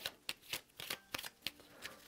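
A deck of Tidewater encounter cards for the board game A Touch of Evil is riffled in a quick run of sharp, close, crisp bursts, each short flutter following the last at an uneven pace with no voices.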